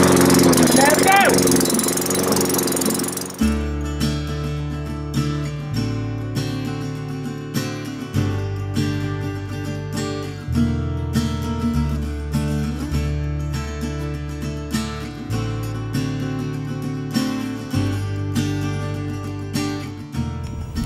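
A Hayter Osprey 46 lawn mower engine is pull-started with a brief burst of cranking noise, then settles into a steady, rhythmic running chug that continues throughout, close to the listener.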